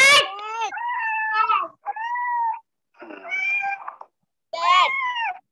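A cat meows several times in a row, drawn-out and plaintive, with short pauses between calls, close and clear.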